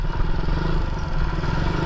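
An old-generation Suzuki Raider 150 motorcycle engine runs close by at a steady idle, a loud, even mechanical chugging with light clatter and no talking.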